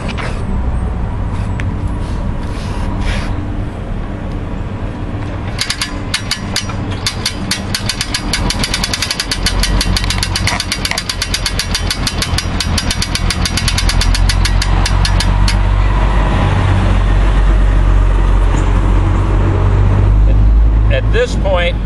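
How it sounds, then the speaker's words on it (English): A trailer jack and a winch being cranked by hand to lower a sailboat mast: rapid metallic ratcheting clicks in a steady rhythm, close and loud, over constant outdoor background noise. "you can crank the trailer jack up and continue cranking the winch so that you maintain tension on the"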